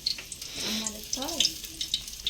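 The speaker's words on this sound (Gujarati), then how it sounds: "મૂળા તળે" Radish pieces frying in hot oil in a village kitchen give a steady, close sizzle and crackle, with a faint voice murmuring underneath.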